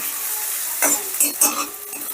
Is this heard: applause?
no